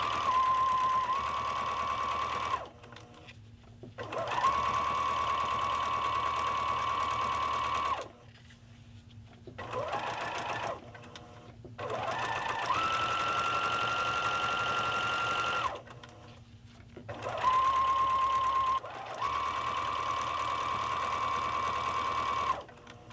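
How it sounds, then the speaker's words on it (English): A sewing machine stitches fabric in several bursts of steady whirring, each a few seconds long and separated by short pauses, heard close and clear with no talking. "Okay, let's stitch it."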